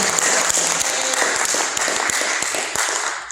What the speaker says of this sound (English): give her a round of applause for allowing me to do that